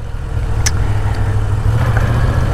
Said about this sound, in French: Au guidon d'une moto